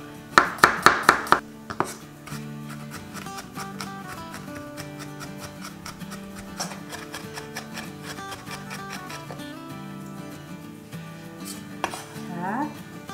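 A knife chops garlic on a cutting board in a quick burst of sharp, loud taps at the start, followed by scattered softer knocks and scrapes against gentle background music.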